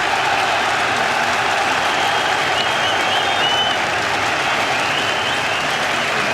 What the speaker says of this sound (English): You couldn't ask for a more passionate crowd than this.